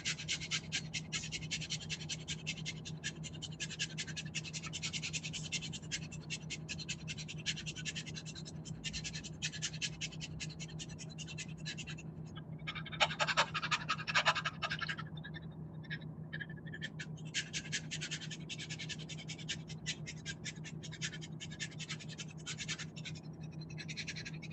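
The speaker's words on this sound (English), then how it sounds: "So I'm going to do fire breathing. I'm going to combine it with some breath holds." A person performs fire breathing, a rapid forceful breathing exercise, with a steady stream of quick, sharp nasal puffs. The puffs are close and continuous, briefly broken by a held pause, with a constant low hum underneath.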